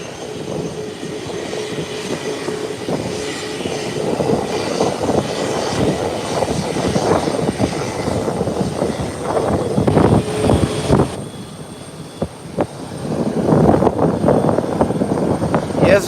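A jet aircraft rolls along an airport runway and swings through a 180-degree turn, its engine producing a steady rumbling roar that swells and surges, with a voice talking faintly at times.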